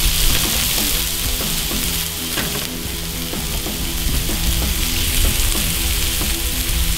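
Cheese smashburgers sizzle loudly on a hot cooking surface, a dense, continuous crackling fry with a few scrapes and clinks mixed in and no talking.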